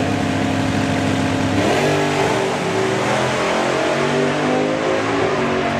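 A Vauxhall drag racing car accelerating down the strip, its engine roaring loud and steady with rising pitch as it climbs through gears, with a shift around the midpoint and no talking.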